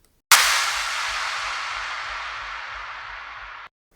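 A single crash cymbal hit used as a layer in a rock or metal impact sound: a sharp bright strike followed by a long, slowly fading wash that cuts off abruptly after a few seconds.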